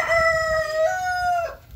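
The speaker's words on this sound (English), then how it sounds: "pardon the rooster." A rooster crows once, loud and close, a long drawn-out call that drops off at the end.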